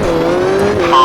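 A rally car launches at the start of a timed recce run, its engine revving hard as one continuous loud, close roar with a rising note at the end.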